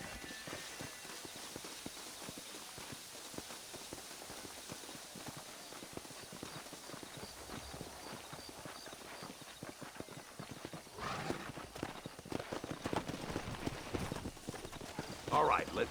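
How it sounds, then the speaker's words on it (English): Rapid clip-clop of horse hooves trotting steadily in the video game Red Dead Redemption, close by, with a louder rush of movement and clatter toward the end. "Come on, horses are over here."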